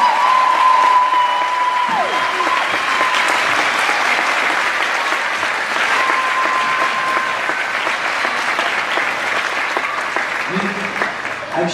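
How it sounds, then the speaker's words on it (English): Sustained audience applause for two music teachers at a lower school winter closing, steady and full throughout, with a sustained tone and murmur under it. "let's give a round of applause to Mrs. Schroeder Lowry and Mrs. McLaughlin"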